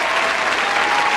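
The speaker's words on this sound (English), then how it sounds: "Give us a little round of applause for him" A studio audience claps for a guest on a talk show, a dense, even burst of applause filling the whole moment.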